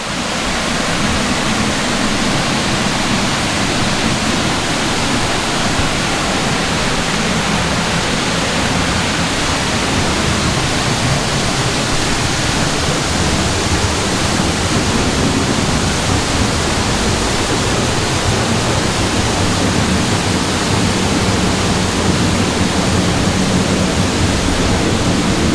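A Norwegian waterfall roars as a steady, loud, unbroken rush of falling water with no break or variation in level.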